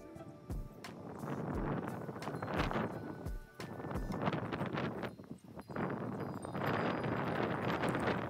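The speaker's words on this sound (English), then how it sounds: "This wind is crazy." Strong wind gusts through a garden, roaring and buffeting the microphone in steady broad rushes, with a few low thumps and rustling between the gusts.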